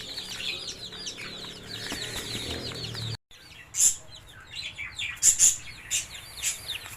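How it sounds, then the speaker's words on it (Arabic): Sasso chicks chirping in a dense chorus, with high peeps overlapping continuously, then a brief cut followed by more scattered, sharper chirps close by. "كتاكيت ساسو بيور"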